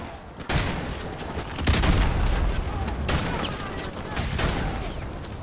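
Pistol gunfire in the Call of Duty: Modern Warfare Remastered video game, with a dense run of rapid shots and booming impacts layered over busy game noise across several seconds.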